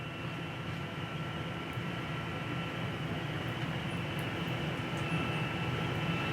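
Hydraulic slide-outs on a 2021 Forest River Cherokee 306MM travel trailer run as a steady, droning pump hum with a constant whine, unbroken and moderately loud throughout.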